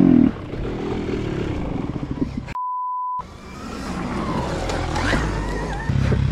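A Yamaha YZ 125 dirt bike engine revs and drones close by at a motocross track, rising and falling, briefly interrupted by a steady electronic beep.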